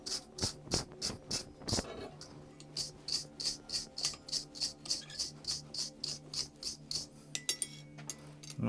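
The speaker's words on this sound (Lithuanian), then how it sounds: "Nušveičiam ir veržlę." A metal nut is scoured clean by hand, with rapid regular rasping strokes that repeat in an even rhythm, close up and with no talk.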